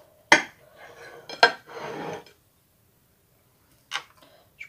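A red-fruit charlotte cake being cut brings sharp utensil clinks and scrapes against a plate, two loud taps followed by soft sliding, then a short gap and a faint final clink.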